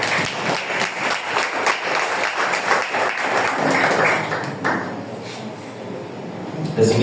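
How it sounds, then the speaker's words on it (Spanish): A church congregation claps in praise during a Spanish-language sermon on tithing, a strong dense round of applause that thins and softens toward the end. "Dale palmas a Dios."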